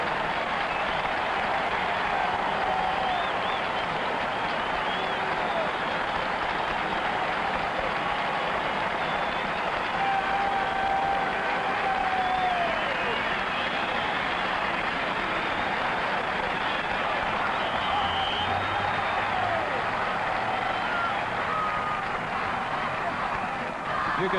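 A record crowd at a 1970 CFL game between the Edmonton Eskimos and Hamilton Tiger-Cats fills the stadium with a steady, dense roar of cheering and applause that carries on without letup from start to finish.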